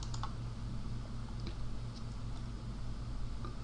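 Clicks from a computer mouse or keyboard in a quiet room, a few light taps over a steady background hiss, close but faint.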